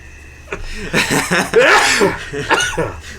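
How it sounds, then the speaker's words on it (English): A sneeze bursts out close up, mixed with a cough-like splutter and a bit of voiced noise from the person. "Sorry. Sneezing."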